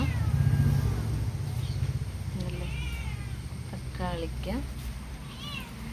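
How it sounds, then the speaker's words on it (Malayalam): A cat meows several times at close range, short rising cries while a person speaks briefly nearby over a low background hum. "ഇവിടെ ഒരു പൂച്ച"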